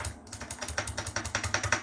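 Rapid, hard key presses on a semi-mechanical gaming keyboard with colour-changing lighting, a dense run of close, crisp clicks and clacks at a steady typing rhythm, heard alone without speech.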